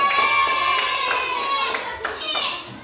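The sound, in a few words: children clapping for group 4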